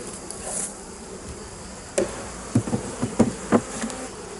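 Honeybees around an opened hive full of acacia honey, a soft continuous buzz close by, with a few sharp knocks and taps of hive frames in the second half.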